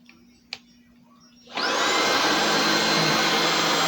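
A Bissell ICONPet Turbo cordless vacuum cleaner starts after a quiet moment and a single click, then runs with a loud, steady high-pitched whine up close.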